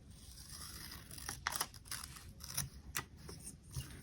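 Scissors snip paper for a planner page in a few quick, faint cuts amid light paper rustling, close by with no talking.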